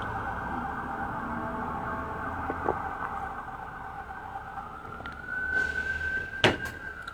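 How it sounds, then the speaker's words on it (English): A vehicle backup beep and a siren sound together: a steady high electronic tone holds throughout, rising slightly near the end, with a sharp knock or thump around the six-second mark; no voices. "Backup beep and a siren at the same time."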